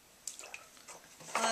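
Water splashes and drips onto wet clay spinning on a pottery wheel during throwing, a few close, brief wet plops and trickles that build toward a louder splash at the end, with a voice speaking around them.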